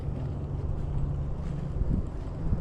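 Steady wind rushes and buffets across the microphone at a lake during crappie fishing before an ice storm, a continuous low roar with no one speaking.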